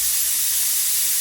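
A pressure cooker whistle lets out a steady, loud hiss of escaping steam while kurma cooks with chilli powder, the sound continuous and unbroken for its whole brief length, with no talk.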